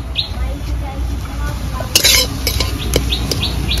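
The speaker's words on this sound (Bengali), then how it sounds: "এবার 2 মিনিট ভালো করে নেড়ে নেব।" Taro leaf paste is stirred in a pan, with irregular scraping and metallic clinks of the utensil, a faint chirping in the background, and no voices.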